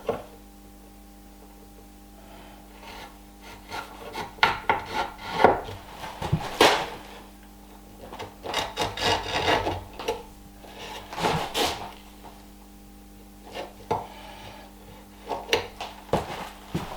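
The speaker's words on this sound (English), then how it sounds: "I'll just use the chisel like this." A chisel shapes the edges of tapered wooden pieces for a mortise-and-tenon Viking bed, making irregular scraping and rubbing strokes with sharp wooden knocks between them, close by and with no talking.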